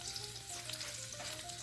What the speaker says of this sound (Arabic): غادي نضيفوا عليها الثومه، غادي نخليوها تقلى واحد شويه